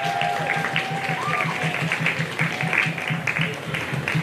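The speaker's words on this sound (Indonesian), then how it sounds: "Tepukan kepada semua tetamu VIP kita pada hari ini." A crowd at a charity football match between an all-star side and Malaysian celebrities claps for the VIP guests. Sustained applause over a PA-system hum, with a brief whistle-like tone and some voices mixed in.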